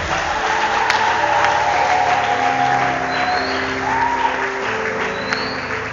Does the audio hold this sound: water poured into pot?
no